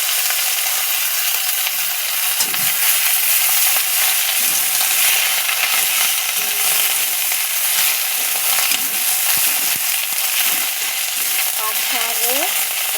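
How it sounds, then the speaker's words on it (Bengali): Jute leaves hit a hot garlic and green chili tempering and fry with a steady, dense sizzle and occasional stirring scrapes, close and loud throughout, with no talk. "এবার রসুন আর কাঁচা লঙ্কাটা ভাজা হয়ে গেছে, এবার পাট শাকগুলো দিয়ে দিলাম।"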